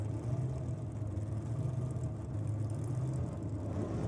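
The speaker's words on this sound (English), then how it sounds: "Love the sound of a clutch car." Steady low rumble of a clutch-equipped drag racing car engine idling at a nitro drag racing event, constant and unbroken, heard at moderate distance with no voices.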